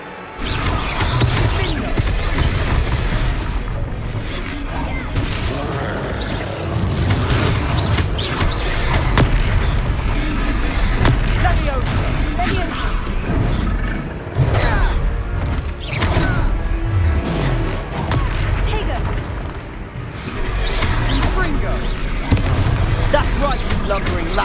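In Hogwarts Legacy, Confringo spell blasts strike a troll during a fight: repeated loud booms and crashes over dense battle noise and game music, with characters shouting throughout.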